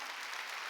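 A congregation at a Korean church Sunday worship service claps briefly, a dense, fairly faint patter of many hands with no voices over it.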